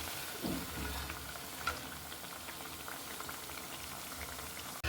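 Potato chops (aloo chop) fry in oil with a soft, continuous bubbling hiss, steady and moderately close, without talking.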